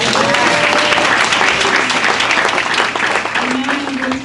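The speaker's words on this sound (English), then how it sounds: "Can we give him another round of applause?" An audience at a Hall of Fame ceremony claps loudly in a dense, continuous round. Scattered voices rise within it, and the applause eases slightly toward the end.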